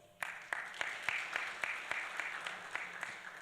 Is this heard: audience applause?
yes